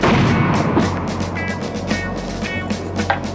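Tank main guns fire on a Canada–United States tank challenge range. Heavy booming reports sound at a distance against a rumbling background, with sharp bursts spaced across a few seconds.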